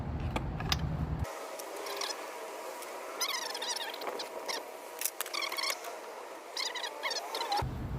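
Short metallic ratcheting clicks and light mechanical rattles from a wrench loosening the spark plug on a Stihl 026 chainsaw, in close, moderately quiet bursts with brief pauses between them.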